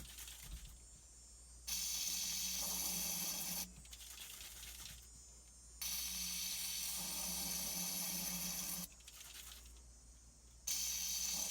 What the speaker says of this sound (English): we're going to put some fogging spray down inside of these cylinder heads